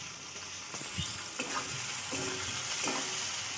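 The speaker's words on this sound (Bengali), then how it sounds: "একটু পেঁয়াজটা ভাজা ভাজা হবে" Chopped onions sizzle quietly in a pan while a spoon scrapes and stirs them in a few short strokes, low and close with a soft hiss throughout.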